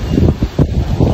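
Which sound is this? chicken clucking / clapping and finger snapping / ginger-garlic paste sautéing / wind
wind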